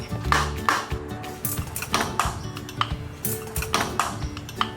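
Metallic tapping and ringing pings, several irregular strikes on a stuck metal part of a motorcycle gear head, close and fairly loud.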